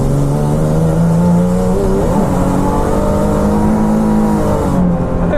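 A Nissan 370Z drifting, its engine holding a loud sustained high-revving drone with wavering pitch as the tyres slide, close and constant throughout.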